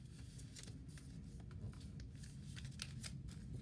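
Paper being folded for a small origami bag with handles: steady close crinkling and soft creasing rustles run the whole time, with several sharper crisp rustle bursts and no talking.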